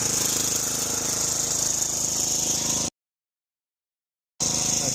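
A DR 26 Premier brush mower runs with a loud, rough engine clatter as it rolls over a stump in brush, then cuts out abruptly before the engine roar returns.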